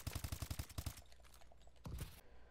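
A rapid automatic burst of gunfire at the firing range in the video game Call of Duty: Advanced Warfare, then a short pause and a second brief burst, crisp and close.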